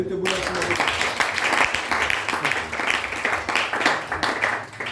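Church congregation acclaiming the Lord with sustained clapping and cheering, a dense wash of hands that carries on throughout, with voices rising under and among the applause.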